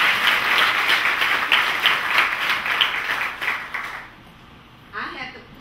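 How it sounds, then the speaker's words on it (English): Audience at a Clark Atlanta University Educational Talent Search banquet in LaGrange, Georgia applauds 8th graders, steady dense clapping for about four seconds that fades out, followed by a short brief burst of sound. "let's give them another round of applause"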